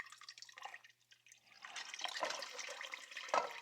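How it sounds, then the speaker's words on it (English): Water is poured from cups into a cooking pot, a splashing, trickling stream starting softly and growing fuller and steadier, close by and alone. "I'm going to add another 4 cups of water."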